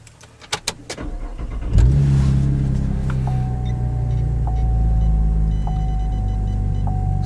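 A Camaro V6 fitted with an MRT version 2 axle-back exhaust cranks with a few clicks, then fires with a sharp surge and settles into a loud, deep, steady rumble close by.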